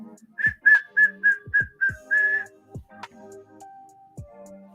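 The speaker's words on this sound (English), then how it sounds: "I had to whistle, guys, to bring the markets back." A person whistles a quick series of short, bright, evenly spaced notes, then a few longer held tones, close to the microphone against a quiet room with faint clicks.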